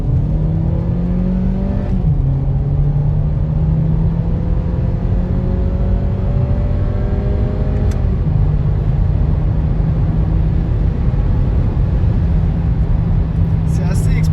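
Audi A3 40 TFSI with 205 horsepower accelerating hard from 0 to 100 km/h, a loud in-cabin engine note climbing through the revs with two clear gear shifts, a voice speaking over it.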